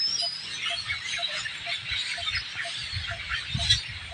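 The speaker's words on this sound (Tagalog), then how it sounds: "Diyan mga kabarks, maraming ibon dyan, oh." A flock of noisy birds chatters and calls from a fruiting balete tree, a dense, continuous high twittering heard at a moderate distance over low outdoor rumble.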